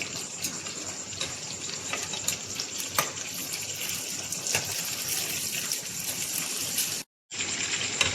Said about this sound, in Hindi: हम यहाँ चिकन को 4 मिनट मीडियम फ्लेम पर तलेंगे।